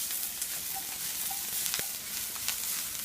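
Onions sautéing in a pan for a vegetable salsa give a steady, moderate sizzle with light crackles and a few soft utensil ticks throughout.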